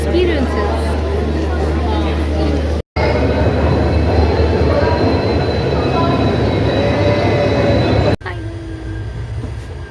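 A passenger train rolling along the rails, heard from inside the carriage: a loud, continuous rumble of wheels and clattering track with faint squeals, broken by two abrupt cuts partway through.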